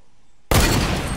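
Gunfire in Fortnite during a squad fight, a loud sudden burst that cuts in sharply after a near-silent moment and stays dense to the end.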